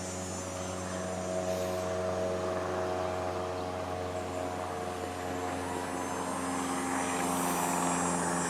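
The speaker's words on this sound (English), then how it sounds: "Oh, there's a plane." A propeller airplane passes overhead during an afternoon walk at Centreville Amusement Park on the Toronto Islands, its steady engine drone held at an even loudness for the whole stretch with no talking.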